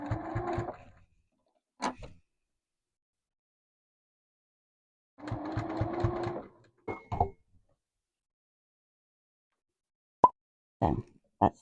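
A sewing machine stitches a row along the side of a boro-style sashiko bag made from honeybee scrap fabric, running in short bursts of a second or two, with quiet gaps and small clicks and knocks between them.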